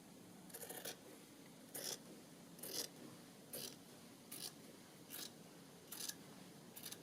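Scissors snip through fabric for a journal cover, giving about seven distinct crisp cuts in a steady, evenly spaced rhythm, close and fairly quiet over a faint room hiss, with no talking.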